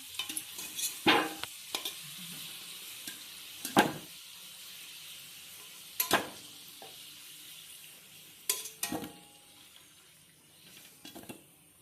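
Quiet sizzling of potatoes frying in mustard oil in a pan, interrupted every few seconds by sharp scraping and stirring bursts from a utensil.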